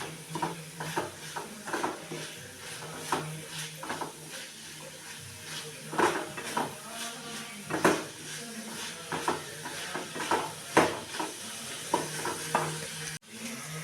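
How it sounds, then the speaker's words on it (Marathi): Bitter gourd stir-fried in a pan, a spatula scraping and tossing in a steady, irregular rhythm over a soft continuous sizzle, close and clear, with a loud clack near the end. "छान असं परतून घ्यायचं आहे"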